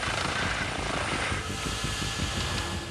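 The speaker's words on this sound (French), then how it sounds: "C'est l'hélicoptère du SAMU qui va s'en charger." Steady, loud medical rescue helicopter rotor thudding with a dense engine whine, constant and close throughout, no voices.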